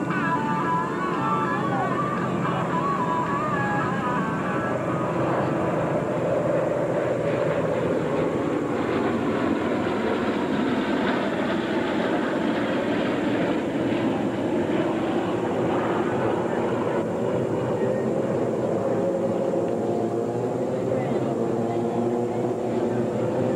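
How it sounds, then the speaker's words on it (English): Four P-47 Thunderbolt fighter planes flying over Millville NJ airport, a steady droning piston-engine roar that holds throughout with slowly shifting pitch, distant and continuous. "P-47 Thunderbolts."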